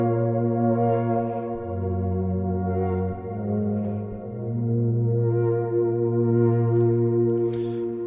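An analog synthesizer with two parts panned hard left and right, a wide, sustained low drone with slowly shifting notes and soft airy bursts on top, steady and loud with no voices.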